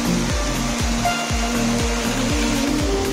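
Water pouring down Kuttiyappa Falls at Eruma Savadi, a steady loud broadband rush with a rhythmic low churning pulse, close by and with no voices.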